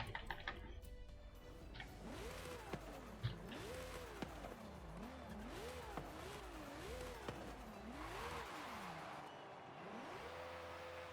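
Modified Liberty Walk Ferrari F40 Competizione in a racing video game doing a launch-control start, engine revving and then climbing through gears in a repeated rise-and-drop pattern of upshifts, loud and alone.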